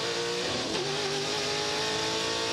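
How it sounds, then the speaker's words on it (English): The engine of a 1969 Trans Am Mustang race car roars hard in a Touring Car Masters race at Sandown, with a loud sustained revving note that climbs in pitch briefly, close and dominant. "Great to have a listen to 69 Trans Am Mustang."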